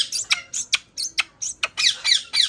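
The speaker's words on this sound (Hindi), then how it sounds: "और ये हमारी मैना है" A pet myna bird squawking in a home, a rapid series of about ten sharp, harsh calls close by, with no talking over them.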